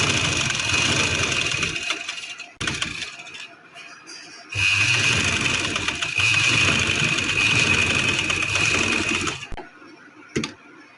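A sewing machine runs steadily while stitching along the edge of a salwar, its continuous whirring hum carrying for several seconds, breaking off briefly twice, then fading out near the end.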